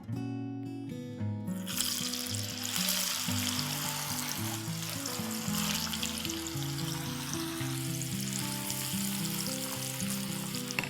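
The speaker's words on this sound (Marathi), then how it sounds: "अशा प्रकारे ही दुसरी बॅच पण आपण फ्राय करून घेऊया." Split chickpeas (chana dal) frying in hot oil as a second batch for namkeen, a steady, dense sizzle that stays loud and close throughout with no talk.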